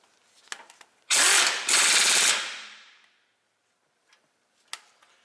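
Impact gun fitted with an 18mm socket hammering a strut bolt on a 2004 Ford Explorer 4x4, one loud close rattling burst of about a second, a brief break, then a second burst, with scattered clicks of tools before and after.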